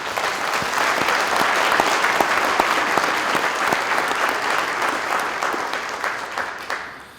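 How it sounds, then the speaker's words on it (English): A crowd at a high school athletics Hall of Fame ceremony applauds the inductees, with loud, sustained clapping and some distinct sharp claps that gradually thin out and fade at the close. "Please join me in a round of applause for this group."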